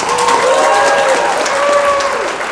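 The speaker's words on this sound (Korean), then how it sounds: "저희 강사님 오실 때 큰 박수로 부탁드리겠습니다." Audience applause at a Sunday business seminar welcoming a speaker to the stage, a dense steady patter of clapping from a seated crowd throughout, with a voice faintly carrying over it.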